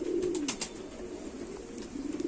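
A pure Sialkoti pigeon coos close by, a low throaty rolling call repeated in short bursts, with faint higher chirps from other birds in the background.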